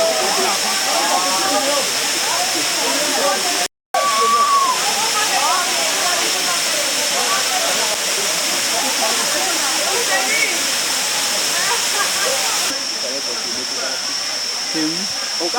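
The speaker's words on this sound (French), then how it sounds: "C'est la puissance à la chute de l'Armpen à Bangoulap, il faut le préciser." Armpen waterfall at Bangoulap, a steady broadband rush of falling water filling the whole stretch, close and loud, with a brief dropout partway and faint voices or birds scattered beneath the roar.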